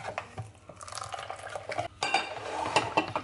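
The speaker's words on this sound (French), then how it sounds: "Tu mets deux cuillères d'huile. Mélange bien." Spoons scrape and clatter against a bowl as a mixture with two spoonfuls of oil is stirred, a steady close wet churning with brief clinks throughout.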